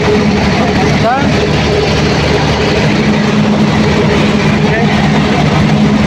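CAT C15 generator engine rated 500 kVA, running rough with a misfire, drones steadily and loudly through the whole stretch, its low rumble constant while someone speaks briefly over it.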